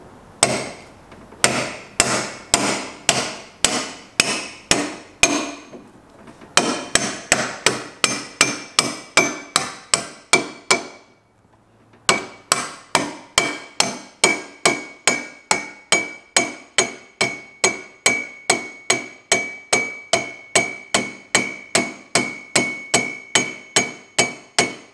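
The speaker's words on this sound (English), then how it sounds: "So when you're using the extension bar and the hammer to hit those stiffener bushes into the axle" A hammer strikes an extension bar to drive stiffener bushes into a Tony Kart axle, landing dozens of sharp metallic blows in a steady rhythm with two brief pauses, loud and close.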